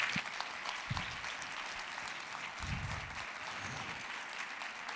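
A teachers' experience-exchange event audience applauds in a steady, dense wash of clapping that stays fairly faint and distant for the whole stretch.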